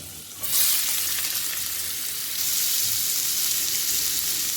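Onions and chilies fry in heated butter for an Indian-style egg bhurji, a steady close sizzle that jumps louder just after the start and holds a bright, dense crackle throughout, with no talking.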